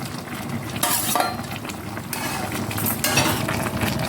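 Fried bitter gourd and eggplant tipped into a pan and stirred for a Bengali milk shukto, giving a steady close sizzle with scraping and clinking of the spatula against the metal, swelling in bursts as the pieces are turned.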